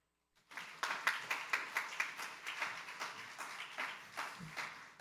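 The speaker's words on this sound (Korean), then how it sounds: "우리 강사 목사님 나오실 때 큰 박수로 환영하도록 하겠습니다." Audience applause greets a guest pastor arriving at a university chapel worship service: a crowd of hands claps in quick, fairly even pulses that swell and settle over a few seconds, moderately close, with no talk over it.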